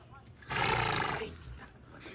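A horse at Zoocobia, a zoo offering rides, lets out a loud close whinny lasting under a second, with quieter background noise around it.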